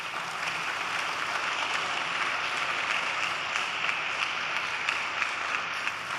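A church congregation claps steadily, a dense, even wash of many hands that is loud and constant throughout, with no voices rising above it.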